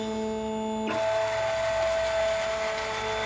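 A Janome Artistic Edge cutting machine writing with a pen gives off a steady mechanical whir and hum. Its carriage motor starts after a short tonal hum, then runs continuously at close range with no voices.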